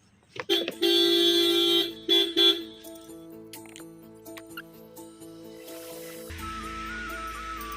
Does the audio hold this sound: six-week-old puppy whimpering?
no